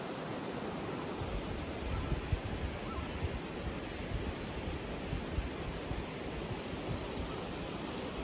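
The Madi river rushes beneath a bridge, a constant loud roar of flowing water with steady turbulent noise and no breaks, wind and water blending into one even wash.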